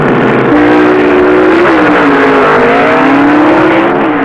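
Pro Stock drag cars at the 1972 NHRA World Finals at Amarillo Dragway, including Don Nicholson's Ford Pinto, roaring loud and close as engines rev and pitch climbs steadily through the run.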